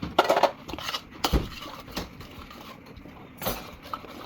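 A spoon scrapes and knocks against a pot while peanut butter is stirred into caldereta sauce, a few sharp clinks followed by softer intermittent stirring, close and alone.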